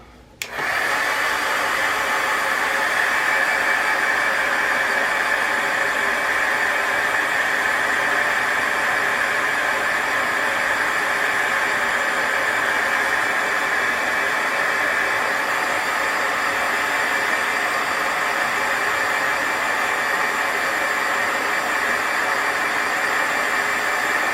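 A hair dryer blows steadily and loudly from start to end, drying a crayon or mixed-media artwork in a steady, unbroken roar with no voices.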